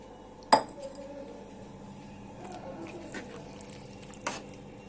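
A spoon stirs chicken into masala in a cooking pot for Punjabi chicken gravy, with one sharp metallic clink at the start, faint scraping and wet mixing, and another soft clink near the end.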